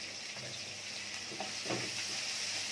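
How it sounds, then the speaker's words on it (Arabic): Chopped onions sautéing in a pan right after meat has been browned, for a baked tray of beef with onions; a steady close sizzle with a few soft stirring scrapes. "هنشوح البصله بقى كده"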